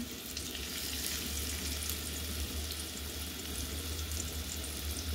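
Small bora fritters frying in hot oil, a dense continuous sizzle heard close and unbroken throughout, with a low steady hum underneath.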